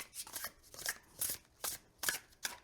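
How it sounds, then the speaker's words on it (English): Overhand shuffling of a hefty, slippery tarot deck: five or six crisp, papery riffling bursts in an irregular rhythm, close and fairly quiet, with no talking. "All right, overhand shuffling."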